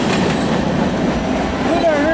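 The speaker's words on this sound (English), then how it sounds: "an NS coal train passes by with a special unit on the point" Norfolk Southern coal train passing a crossing, a loud close rumble and rolling rail noise with faint wheel squeal near the end, under voices.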